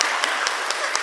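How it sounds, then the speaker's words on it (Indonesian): Audience at a golden wedding celebration clapping in a steady, fairly even rhythm, a sustained patter of many hands with a few sharper accents, no talk over it. "Tepuk tangan dong."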